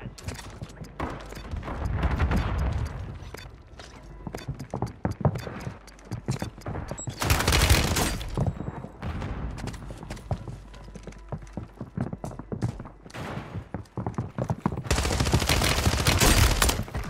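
A grenade launcher and other weapons fire on Call of Duty's Rebirth Island in repeated loud blasts and rattling bursts, with voices talking between the shots.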